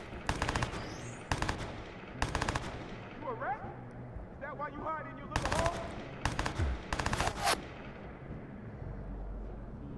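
Gunfire in the Watch Dogs video game, with sharp, loud bursts of rapid shots repeating in clusters and a few scattered single cracks, close and punchy, with short gaps between volleys.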